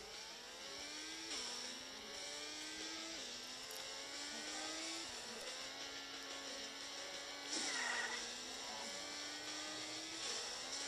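Engine of a car in the video game Extreme Car Simulator revving hard and climbing through gears in repeated rising sweeps, a steady loud drone with brief shifts and a louder burst near the end.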